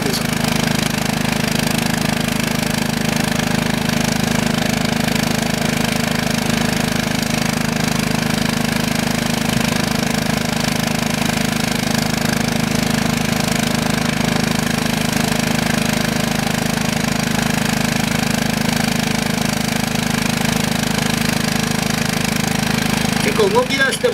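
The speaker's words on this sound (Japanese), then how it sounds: "結構動き出してもノロノロという感じですが" A driverless test vehicle in a technical research demonstration creeps slowly backward in reverse, its steady engine hum droning continuously at moderate loudness throughout, with faint background voices beneath.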